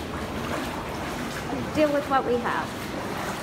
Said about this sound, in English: The tide is coming in